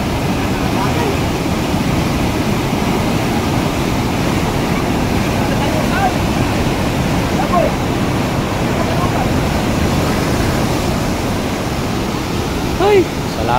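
Steady loud rushing of river water under a bridge, a continuous broadband roar with occasional faint voices underneath.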